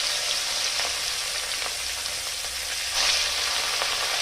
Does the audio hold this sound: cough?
no